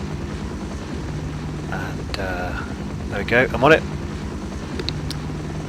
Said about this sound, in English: Infiltration standard Black Hawk helicopter.